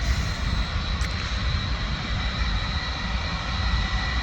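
A Boeing 757 jet airliner at Manchester Airport, its engines giving a steady, loud, broadband roar with a high whine on top, continuous and fairly close, with no talking.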